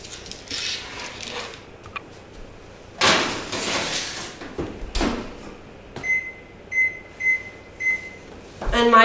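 Oven door closing after salmon and asparagus go in on a new stove, a sharp thump followed by mechanical clatter and a series of clear electronic beeps as the timer is set, with faint kitchen rustling and no talk.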